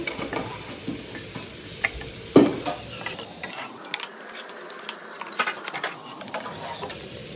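Prawns frying in hot oil in a pan, a soft continuous sizzle broken by scraping and clinking as a utensil stirs and lifts them out, close and without talk.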